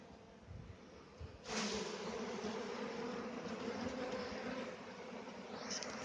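A bee swarm being settled into a hive gives a steady, close droning hum that swells suddenly into a louder, fuller buzz and holds there, with some handling noise early on.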